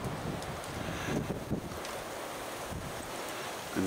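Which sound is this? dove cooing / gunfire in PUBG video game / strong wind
strong wind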